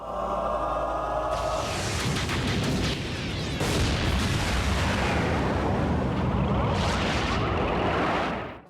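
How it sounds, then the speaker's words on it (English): A bridge blown up in the Transformers Prime animated series, a colossal sustained explosion with booming blasts, crackling debris and whooshing bursts that roar on for several seconds before cutting off. "The explosion is colossal."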